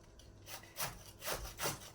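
A knife finely chopping collard greens on a board gives soft, rhythmic rasping strokes, about four or five in quick succession, quiet and close with no talking.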